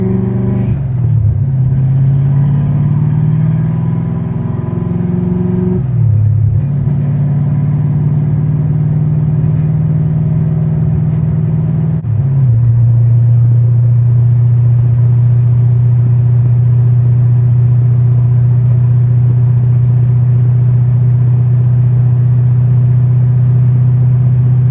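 A big-cam car with a manual transmission accelerates hard, its loud, close engine roar climbing through the revs and dropping sharply at each gear change before pulling steadily again, with no talk.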